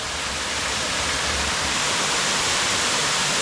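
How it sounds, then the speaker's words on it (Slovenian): A waterfall on the Tolminka river roars loudly and steadily up close, a dense, unbroken rush of falling water that fills the whole moment. "Evo, tukaj je zdaj drugi slap"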